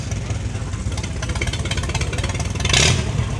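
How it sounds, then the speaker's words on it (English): A tractor engine at a tractor pull runs close by with a steady, loud clattering chug that rises briefly near the end. "Well, that tractor sounds pretty good."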